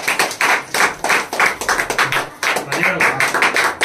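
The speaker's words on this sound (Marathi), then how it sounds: "टाळ्या।" An audience claps at a village prize ceremony for a Ganesh decoration competition in Konkan. The clapping is loud and close, with rhythmic bursts of hand claps throughout.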